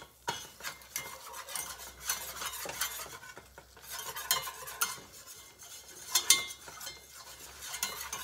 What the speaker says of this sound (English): I'm gonna let this cook about a minute, but I'm gonna continuously stir